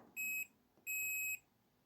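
A multimeter set to continuity gives two clear, steady high-pitched beeps, each roughly half a second long with a short gap between, while probing a transistor's center leg against its case in a UPS repair.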